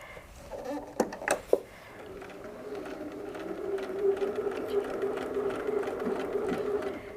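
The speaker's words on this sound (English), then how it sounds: "You'll just keep stitching until you fill up all the feathers." Sewing machine stitching quilted feather designs with feather templates, starting with a few sharp knocks and then settling into a steady, close, continuous mechanical whir with no talking.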